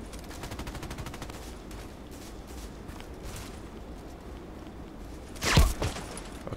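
Gunfire in the online shooter Contract Wars: a rapid burst of shots at first, then one loud, sharp sniper rifle crack near the end, with quieter game ambience and movement between.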